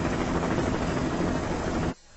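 A helicopter flies over a forest in the Resident Evil game, giving a steady, dense rotor and engine roar that cuts off abruptly near the end.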